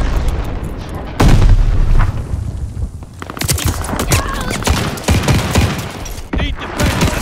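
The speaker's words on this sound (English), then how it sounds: "Friendly bombing run inbound." Heavy explosions and gunfire from a bombing run in the video game Call of Duty Vanguard, Patrol mode on the Casablanca map, with loud dense booms and bursts rolling continuously near and far, and some faint voices mixed in.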